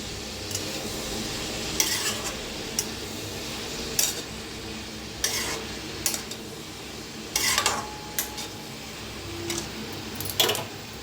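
A spoon stirs potatoes and cabbage in a pan, with intermittent scraping and clinking strokes over a soft, steady sizzle.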